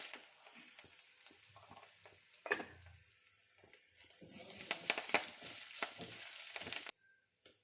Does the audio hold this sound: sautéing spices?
yes